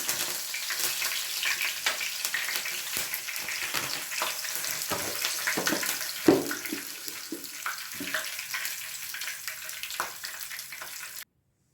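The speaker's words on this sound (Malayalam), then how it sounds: "നമുക്ക് കറിവേപ്പിൻ്റെ ഇല ഫ്രൈ ചെയ്തെടുക്കാം" Curry leaves sizzle in hot oil in a home kitchen, a steady bright hiss of frying with small crackles and one sharp pop, close and continuous until it cuts off.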